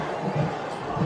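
High school football crowd at West High versus Centennial cheering during a run play, a continuous broad roar of many voices from the stands.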